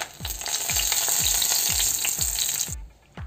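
Mustard seeds, cumin and dried red chillies sizzle loudly in two spoons of hot oil in a pan for a pomegranate rasam tempering, a steady crackling hiss with regular popping bursts that drops off near the end.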